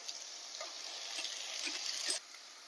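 Onion paste with ginger and garlic paste sizzles steadily in a pan while being stirred, a soft continuous frying hiss with light scraping ticks that cuts off abruptly near the end.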